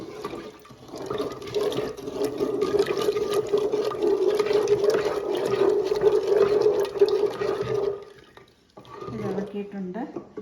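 Cold water, about one and a half litres, poured into a container for homemade fruit Christmas wine, a steady splashing gush for about eight seconds that stops, then a short quieter slosh.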